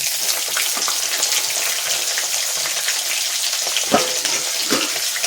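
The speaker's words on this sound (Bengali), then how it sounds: "পেঁয়াজগুলো ভেজে নিই প্রথমে।" Roughly cut onions fry in hot oil, a loud, continuous crackling sizzle close by with occasional brief stirring scrapes.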